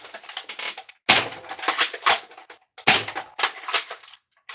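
A Dart Zone Adventure Force Aeon Pro foam dart blaster fires two rapid bursts of full-length darts, each a loud close chattering run of mechanical clacks, separated by short silences.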